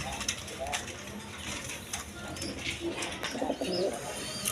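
Pigeons, a pair of Raj Golla fancy birds, coo in soft repeated calls close by, alongside intermittent mechanical ratcheting clicks.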